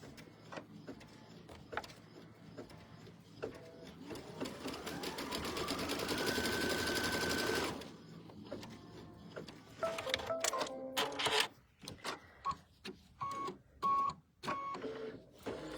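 A sewing machine stitches a seam through red quilt fabric in a steady mechanical run of about four seconds, then stops, followed by scattered clicks and handling noises.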